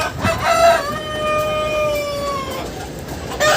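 A rooster crows in a backyard chicken coop in the Kyiv region, one clear drawn-out call rising and then falling, with a short start of another crow at the end over faint background noise.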